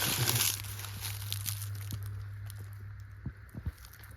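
Dry, crunchy crackling and crinkling of footsteps on dead leaves in woods on public land, with a few sharper crunches near the end; close by and otherwise quiet.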